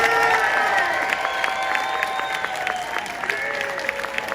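Audience applause and cheering at a fan festival in New York rings out steadily for a contestant's performance, a dense, continuous crowd clapping with scattered shouts throughout.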